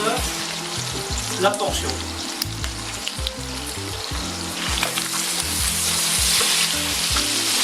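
Beef flank steak, onglet, searing in a pan with a constant strong sizzle and crackle, near and loud, while someone talks in French over the first part.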